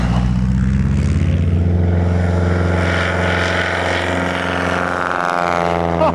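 A small bush plane lands on an Alaska airstrip nearby, its propeller engine a loud steady droning hum that slowly shifts pitch as it passes and decelerates.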